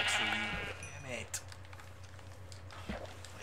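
A sheep bleats loudly at the start in the video game Minecraft, with a wavering cry near the front, then fainter game ambience and a few clicks follow.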